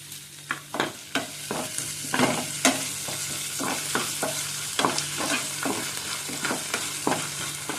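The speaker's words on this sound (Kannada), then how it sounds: "ಚೆನ್ನಾಗಿ ಫ್ರೈ ಆಗಲಿ" Ginger and garlic frying in a pan for egg bhurji, a steady sizzle broken by repeated scraping stirs of the spoon at close range, with no one speaking.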